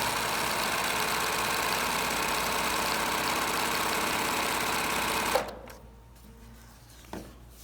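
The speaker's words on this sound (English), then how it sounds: "Just take a piece of denim, fold it over in half. Okay, we're just gonna sew 2 layers" A sewing machine runs steadily and loudly as it stitches a seam through two layers of folded denim, a continuous close mechanical whir. It stops abruptly, leaving a quiet pause with a single faint knock.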